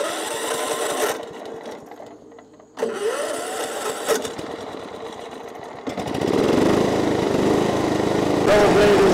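A John Deere STX38 riding mower runs with its double blades engaged, the engine chugging unevenly and dropping out at moments before settling into a louder, steady drone.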